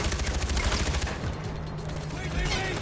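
Sniper and automatic gunfire in a Far Cry 4 firefight, dense bursts of shots crackling loudly and continuously over a steady din, with talk mixed in.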